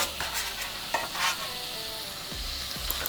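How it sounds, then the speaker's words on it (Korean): Bacon and ham fry with garlic over medium heat in a pan, a close, steady sizzle broken by light scraping stirs, with no talking. "마늘이 끓기 시작하면 마늘을 한쪽으로 몰고 여기에 베이컨 그리고 햄을 같이"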